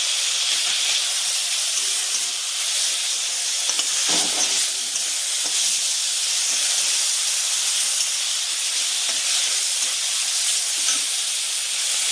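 Ginger, garlic and onion paste frying in hot oil in a pan for a Bengali fish-head moong dal; a loud, continuous close hiss and sizzle with faint stirring scrapes throughout, no talking.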